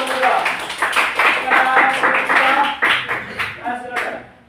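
A small group in an Indonesian classroom applauds two presenters, irregular close claps with some rhythmic bursts, mixed with voices talking and cheering before fading out.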